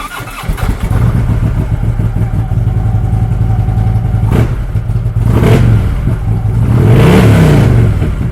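A 2015 Harley-Davidson Road Glide Special Lehman trike with Reinhardt slip-on exhausts idles loudly up close, then blips its throttle in several sharp revs that rise and fall.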